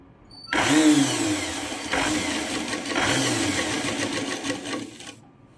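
Sewing machine running steadily while stitching a French seam, a close, continuous whirring drone that starts abruptly, holds for about five seconds with slight surges, then stops.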